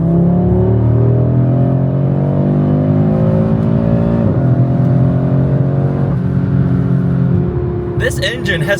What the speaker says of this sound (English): This engine has such a unique sound and feeling